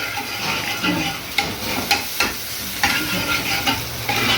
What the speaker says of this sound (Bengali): মশলাটা কষে গেছে। এখন এতে একটু জল ঢাললাম